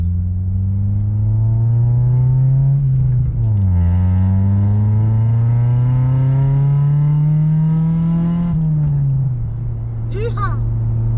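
An engine drone from inside a car waiting and moving through traffic at an intersection, a loud steady hum that rises in pitch, dips, then climbs again as it accelerates, with a voice briefly over it near the end.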